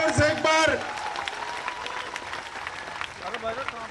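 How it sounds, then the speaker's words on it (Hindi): A large crowd at an outdoor political rally in Makrana breaks into applause, a dense wash of clapping that swells after a loud shout and then holds steady, with cheering voices mixed in. "ताली बजाओ जोर से एक बार"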